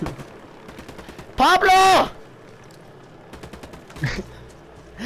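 A burst of rapid gunfire from Ghost Recon Wildlands rings out loud and close for under a second, with further scattered shots around it while someone talks and shouts over the action.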